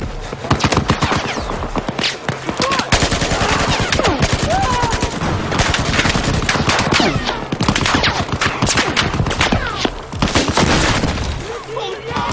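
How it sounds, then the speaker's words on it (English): Heavy machine gun fire in the Battlefield 4 campaign, dense sustained bursts of rapid shots crackling throughout, layered with other battle gunfire and impacts at steady loud level. "Sounds like they have a heavy machine gun."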